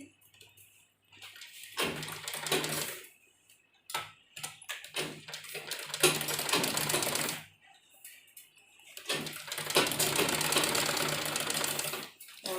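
A sewing machine runs in several bursts of rapid stitching, double-stitching seams on a baby dress, with pauses and small clicks between runs.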